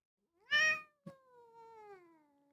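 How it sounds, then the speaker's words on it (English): A small fluffy meowing creature in the video game Rain World gives one loud, sharp meow, then a longer drawn-out meow that slowly falls in pitch, heard alone and close. "Here is the creature that meows."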